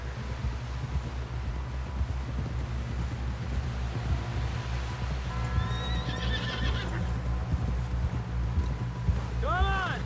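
Horse gallops with steady hoofbeats and neighs near the end in Red Dead Redemption 2, set against a constant low rumble, with a voice talking over it.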